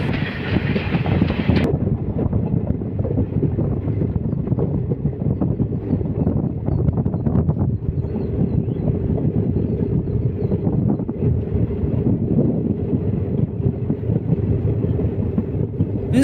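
The Mettur Dam Express between Salem and Mettur Dam rumbles steadily through a curve, with a continuous loud rolling drone of wheels and carriages and wind buffeting the microphone throughout.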